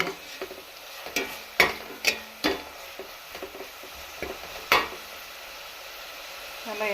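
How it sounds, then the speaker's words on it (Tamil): Ginger garlic paste sautéing in hot oil for a chicken gravy, a steady soft sizzle broken by sharp scraping clicks of a spoon against the pan at uneven intervals, close and fairly quiet. "இப்போ வந்து இஞ்சி பூண்டு பேஸ்ட் ஆட் பண்ணியாச்சு. நல்லா வதக்கிக்கலாம்."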